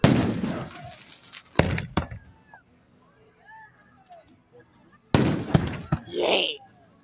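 Fireworks exploding at Hermiston Raceway, a run of loud sharp booms and crackling bursts at the start and again near the end, with quieter distant pops between them and people cheering and shouting.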